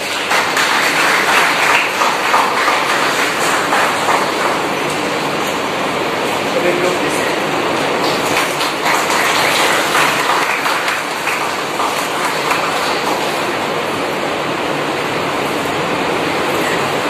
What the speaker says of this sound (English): A round of applause everyone please